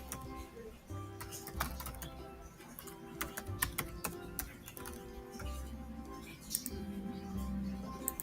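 Someone types an email on a computer keyboard, with quick, irregular clusters of close key clicks over a low background hum.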